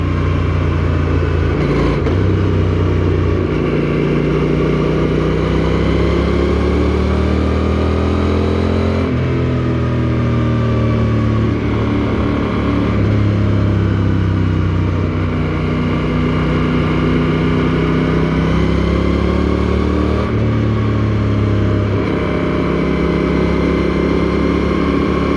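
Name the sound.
Rebel 1100 cruiser motorcycle riding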